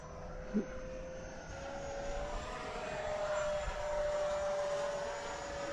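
An Avanti S v2 radio-controlled jet running on a 6S battery gives off a faint, steady, high whine from a distance, with one brief soft thump near the start and no voices.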